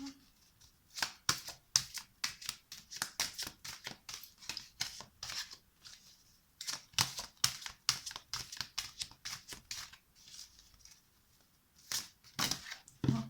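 Tarot cards shuffled and drawn by hand, a fast irregular run of crisp riffling and slapping card sounds, close and fairly quiet, with brief pauses and no talking.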